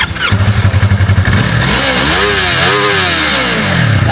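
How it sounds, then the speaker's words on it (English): A 2019 Yamaha YZF R3 motorcycle engine thrums close by, pulsing at idle before revving up and down in a few rising and falling sweeps, loud and alone. "Exhaust note."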